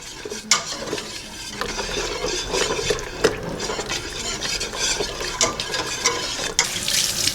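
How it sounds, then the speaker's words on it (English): Cherry pie filling being stirred in a pot, with a spoon scraping and sloshing through the thick mixture in a steady, repeated rhythm and occasional clinks against the pot, close and fairly loud with no talking. "Keep stirring this around"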